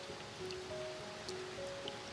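Steady background rain sound effect, a soft, even patter and hiss that stays faint and constant throughout with no breaks.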